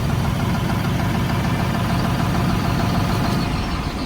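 A New Holland 5620 CRDI tractor idling after a self-start, a loud, steady diesel rumble from close range that continues unbroken with no voices.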